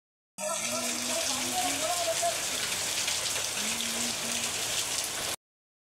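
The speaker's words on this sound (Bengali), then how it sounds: "এই বৃষ্টি হচ্ছে" Heavy rain pours down steadily in a broadband wash of drops, loud and continuous, with a few faint tonal sounds briefly over it and no talk.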